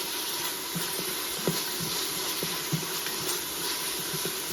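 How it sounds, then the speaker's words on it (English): Spices saute in a pan for bean soup with a steady sizzling hiss, broken by a few soft clicks and light stirring knocks, with no talk. "Get this bad boy all sauteed."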